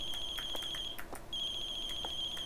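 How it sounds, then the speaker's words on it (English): An alarm goes off in The Closing Shift video game: a steady high electronic tone rings continuously, breaking off briefly midway, with faint rhythmic clicks and ticks in the background and no talking over it. "Somebody's alarm is going off?"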